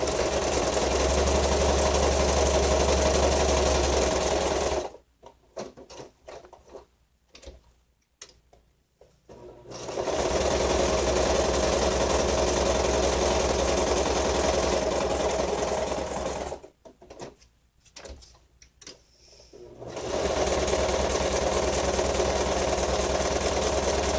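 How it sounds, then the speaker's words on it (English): Sewing machine zigzag stitching a pocket onto eco-dyed paper, three loud sustained runs separated by quiet pauses with light clicks and handling noise. "I'm going to just zigzag stitch this on here."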